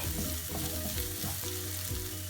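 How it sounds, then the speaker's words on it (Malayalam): Carrots and spring onion stir-fried in a pan, with a steady, dense sizzle and the scrape of stirring for the whole stretch, loud and close, and no voices. "ഈ ക്യാരറ്റ് നന്നായിട്ടൊന്ന് കുക്ക് ആകുന്നിടം വരെ നമുക്കിത് ഇളക്കി കുക്ക് ചെയ്തെടുക്കാവേ"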